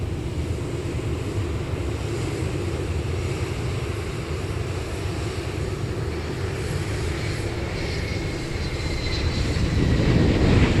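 Airbus A330-300 airliner arriving at DFW from Manila, a steady distant engine roar that grows louder and closer toward the end.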